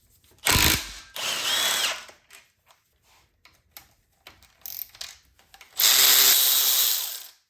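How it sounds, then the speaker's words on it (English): A power tool whirs in loud bursts while removing a bolt from a BMW N20 engine during a teardown, with two long runs separated by short clicks and metallic taps. "I'm going to take off this bolt here to let the chain loose"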